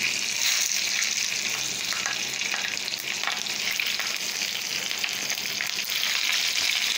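Beef seekh kebabs sizzle steadily in their own oil on a well-heated sizzling pan, a loud, constant crackling hiss that holds without a break and without any talk.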